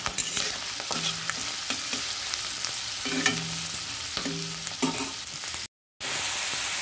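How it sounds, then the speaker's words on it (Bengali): Pond snails frying in a pan with vegetables for a curry, a steady close sizzle with repeated scraping stirs of a spatula running throughout, cut briefly by a short gap near the end. "দেখো, গেঁড়িগুলো ভাজা হচ্ছে।"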